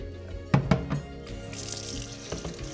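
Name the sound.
rinsing Hurom H101 slow juicer under running tap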